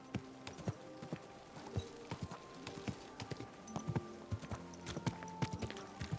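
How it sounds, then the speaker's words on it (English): A horse's hooves clip-clop at a steady walking rhythm in the medieval video game Kingdom Come Deliverance 2, a close, moderately loud run of repeated hoof strikes with no speech. "Good horse."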